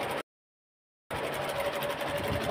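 Sewing machine stitching cloth, a steady close mechanical whir that starts after a short silent gap and runs continuously to the end.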